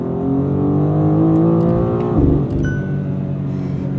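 A 2026 BMW M2 CS with an 8-speed automatic in manual mode, its engine droning loud and close on a twisty road, a rising rev with a brief surge and shift midway, then settling back.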